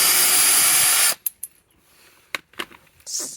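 A power drill unscrews a fender flare bolt on a 2009 Chevrolet Silverado, a loud close whir lasting about a second, followed by light metallic clicks and handling taps.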